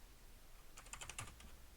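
A handful of quick, faint keystrokes tap on a computer keyboard as a dir command is typed on an MS-DOS PC, a short burst in a quiet room.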